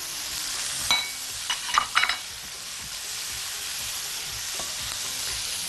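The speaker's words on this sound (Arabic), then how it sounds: "ويلا بينا بقى ننزل بالفلفل الالوان المتقطع شرايح برضو" Sliced colored bell peppers going into a pan of sausage fry with a steady sizzle, broken by a few brief stirring scrapes and clinks near the start.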